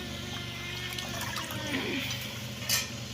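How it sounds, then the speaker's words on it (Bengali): Bottle gourd leaves are rinsed in water, a steady close sloshing and trickling with faint splashes and a short louder slosh near the end. "পাতাগুলো এইভাবে করে আগে ধুয়ে নিই ভালো করে ধুয়ে নিয়ে"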